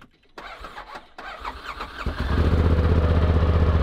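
A vehicle engine that has sat unused for months cranks over for a couple of seconds, then catches and settles into a loud, steady, slightly rough idle. No one speaks.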